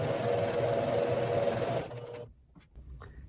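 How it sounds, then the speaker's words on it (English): A sewing machine joins bandana quilt pieces, a steady close whir lasting under two seconds before stopping abruptly, leaving brief faint handling sounds. "So I'm basically sewing them together the exact way that they're laying."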